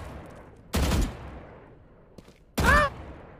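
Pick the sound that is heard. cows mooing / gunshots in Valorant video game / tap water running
gunshots in Valorant video game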